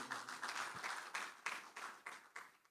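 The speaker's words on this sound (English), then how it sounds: "Please, a round of applause for him." An audience applauds the Minister for Budget and National Planning at a governance and social accountability event, a steady, fairly close round of clapping with regular swelling bursts and no talk over it.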